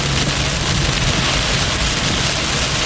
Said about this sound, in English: I can see this heavy rain, but it's not be core because the rain is very heavy.